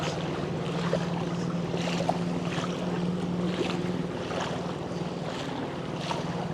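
Boats move through flood water on a street in Pampanga, a steady low motor hum with sloshing water and wind noise, fairly faint and without speech.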